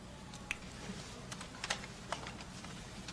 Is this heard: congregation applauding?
no